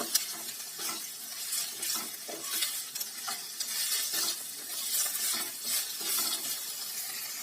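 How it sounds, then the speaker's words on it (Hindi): Minced meat sizzles and crackles steadily in a hot pan for a Hindi-Urdu stuffed tomato (bharwa tomato) recipe, with occasional stirring scrapes and no voices. "और इसमें फिर डालेंगे अपने कीमे को। इसे 5 मिनट तक भूनेंगे।"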